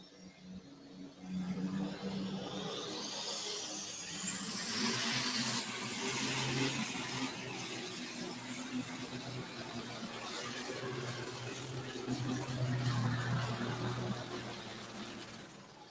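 An alcohol-fuelled pulling tractor at a Fort Recovery, Ohio pull roars steadily down the track, a loud, continuous engine howl with a rising high whine, heard alone without talk.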